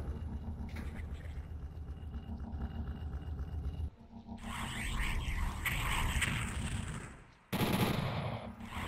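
Gunfire in DOOM 64 comes as sustained rapid shooting mixed with gritty monster roars and harsh game noise, changing in texture across the stretch, loud and with no speech.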